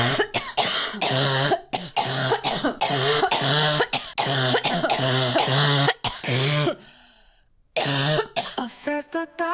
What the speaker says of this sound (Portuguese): solta aí todas as tosses que eu dei até agora